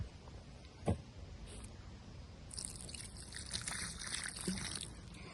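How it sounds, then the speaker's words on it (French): Water poured from a can onto a newly planted tomato plant set in a small soil basin, a soft trickling and splashing that starts partway through and continues steadily, fairly quiet. "Et ensuite, vous arrosez."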